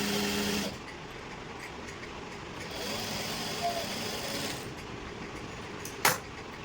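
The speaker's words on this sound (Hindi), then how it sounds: "जो बची हुई बेल्ट है इसके ऊपर भी सिलाई लगा देंगे।" Sewing machine stitching over the remaining waistband belt on a pair of trousers in a tailoring boutique, a steady close mechanical whir running throughout with a brief sharp click near the end.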